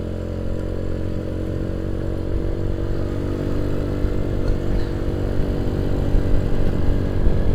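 A Nuvo motorcycle ridden at night after heavy rain drones with a loud, steady low engine rumble and a thick layer of road and wind noise, growing slightly louder toward the end.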